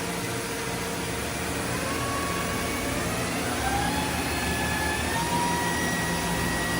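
A 2010 Mazak Nexus 510C CNC machine spindle running at 2,500 RPM gives a steady, continuous whir with a faint rising tone, close and fairly loud throughout.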